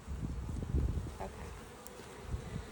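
Bees buzz around a beehive box, a dense continuous drone with individual insects passing close by, loud and steady with no talk.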